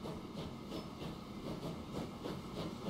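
Train running in the video game Transport Fever 2, a steady rolling rumble with rhythmic clickety-clack beats of wheels over rail joints, continuous and moderately loud without talk.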